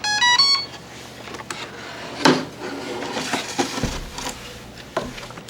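An electronic speed controller on an FT P-51 Mustang RC plane gives a short series of rising beeps right after the battery is connected, followed by faint clicks and handling noises of the model on a workbench.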